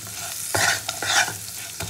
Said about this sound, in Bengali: মোটামুটি একটু ব্রাউন করে ভেজে নেবো।